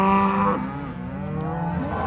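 Cattle on a Texas ranch moo loudly and close by in one long, drawn-out low call that bends downward, followed by a quieter second moo.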